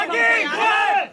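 A dense crowd of Hindutva activists in Gurugram loudly chants Bharat Mata ki Jai in unison, many voices merging into one sustained, rising and falling roar that fills the space.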